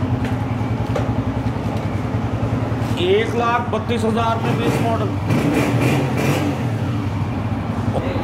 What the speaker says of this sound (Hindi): अच्छे साउंड में इंजन बोल रहा है।